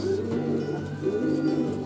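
Pigeons coo softly in low, throaty rolls, close by and continuous.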